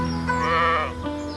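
A cartoon sheep bleats on a farm with a green tractor pulling a wooden trailer full of sheep; one clear, wavering bleat sustained at moderate loudness, standing alone.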